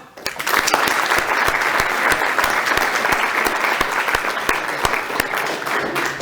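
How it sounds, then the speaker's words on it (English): A crowd at a Hanukkah Talmud completion celebration gives sustained applause, many hands clapping steadily and fairly close for several seconds with little talk. "I want a tremendous round of applause"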